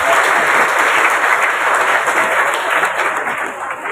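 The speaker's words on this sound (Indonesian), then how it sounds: "Tepuk tangan teman-teman untuk itu." Loud, dense applause from a large crowd at a formal civic event in Cirebon, a continuous roar of many hands clapping for several seconds.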